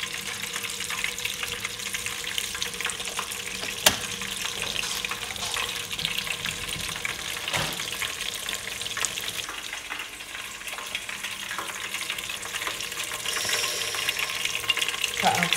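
Loud, steady sizzling and crackling of chicken frying in hot oil, continuous and close up throughout.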